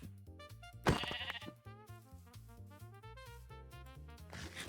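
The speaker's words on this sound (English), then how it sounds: "Alright, we have a sheep." A sheep in Minecraft with the Cobblemon mod bleats in a wavering, tremulous cry from the game, set over steady game background music with no talking.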